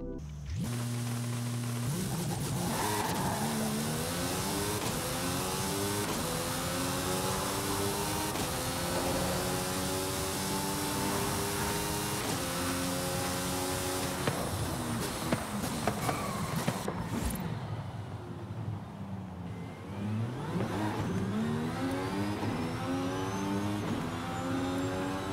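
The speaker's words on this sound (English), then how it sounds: "Our next car is the Mercedes-AMG Project 1. Now, just like the Aston Martin Valkyrie, this thing sounds like a straight-up F1 car." A Mercedes-AMG Project 1 hypercar in Forza Horizon 5 revving hard through repeated gear sweeps, a shrill, high-pitched F1-style engine scream rising and falling loudly with brief lifts between pulls.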